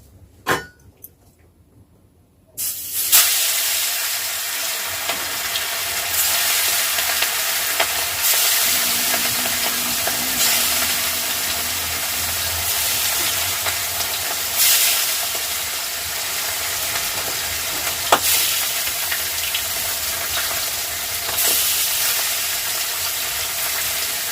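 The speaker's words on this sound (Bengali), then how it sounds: "আমার কড়াইতে তেল গরম হয়ে গেছে। আমি এবার মাছটা ভাজবো।" After a quiet start, hot oil in a wok suddenly erupts into a loud, continuous sizzle of pomfret frying, with occasional spits and crackles, close up.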